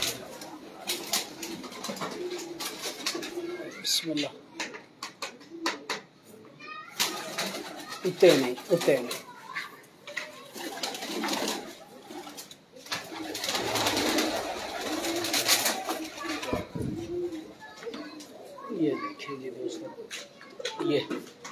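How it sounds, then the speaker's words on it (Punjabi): Pigeons kept by a pigeon fancier coo steadily and close at hand, their soft, repeated calls running throughout. People talk over and between the coos. "ਇਹ ਕਬੂਤਰ, ਬਸ ਠੀਕ ਹੈ"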